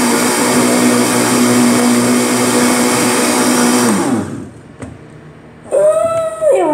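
Kitchen blender whirs loudly and steadily while blending a dog-food smoothie, then winds down and stops; after a brief pause a short mechanical clatter and a rising whine follow.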